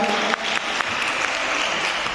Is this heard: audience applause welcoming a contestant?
yes